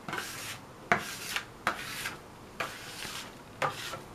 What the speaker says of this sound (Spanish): Y revolvemos hasta obtener una mezcla uniforme.